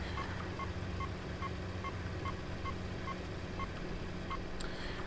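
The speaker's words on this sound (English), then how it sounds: "I hear my police beeper, and there he is, right there on the left-hand side." In 18 Wheels of Steel: Across America, a police radar detector gives about a dozen short, evenly spaced beeps inside a truck cab, faint over a steady low engine rumble in traffic.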